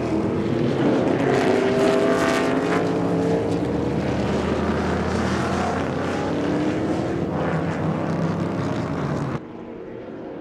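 A 3.8 Corvette race car pulls off the circuit into the paddock early, its steady engine drone carrying throughout with other racing cars passing in the background, ending with a sudden drop in level.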